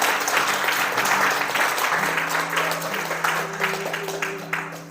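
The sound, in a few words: congregation applause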